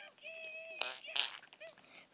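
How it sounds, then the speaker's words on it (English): A cartoonish fart sound effect in the Roblox game Murder Mystery, a couple of short, sputtering bursts at moderate volume amid game noise, with no talking over it. "Why is the murderer farting?"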